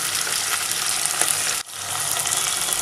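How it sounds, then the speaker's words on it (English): Onion paste of two large onions with coconut fries for mutton korma, a loud, dense and constant sizzle that cuts out briefly, then resumes. "Fry it for 2 minutes."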